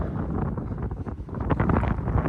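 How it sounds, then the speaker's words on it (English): Strong wind buffets the microphone with a loud, rumbling roar that gusts unevenly throughout. "It is so incredibly windy out here."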